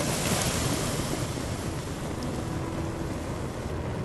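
An axe head is quenched in water in the VR game Legendary Tales, producing a steady broad hiss and rush like steam or surf. It holds at an even, fairly loud level throughout with no voices.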